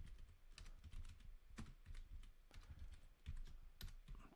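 Close-up clatter of typing on a computer keyboard, irregular quick keystrokes in short bursts with small pauses, fairly quiet in a room.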